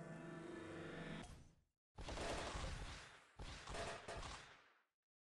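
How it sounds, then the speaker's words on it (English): Burst effects from a disco ball and rocket combo in the Toon Blast mobile puzzle game: a tonal chime fading into three loud, noisy blasts in quick succession, heard alone without talk. "disco ball rocket combo"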